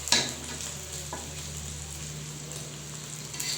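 Egg with potato frying in a pan, a steady close sizzle with a few soft clicks of stirring or turning, no talking.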